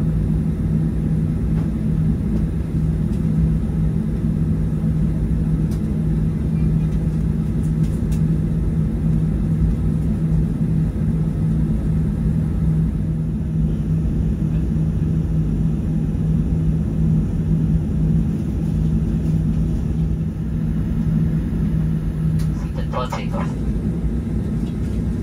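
Firefly Boeing 737-800 airliner taking off, a steady loud low engine roar and rumble heard from inside the cabin, sustained throughout with little change.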